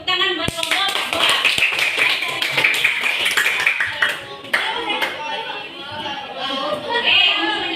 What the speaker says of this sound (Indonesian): Tepuk tangan buat kelompok dua.